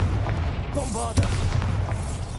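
A Bombarda blasting spell goes off in Hogwarts Legacy, one sudden booming impact rising out of a steady game ambience, with a short rumbling tail. A voice is heard just before it.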